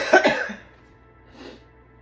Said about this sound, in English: Please forgive the cough that I'm trying to recover from.